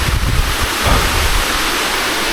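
A river flowing right beside a forest village path, a steady loud rush of water close to the microphone with some wind buffeting, continuous and unbroken with no talking.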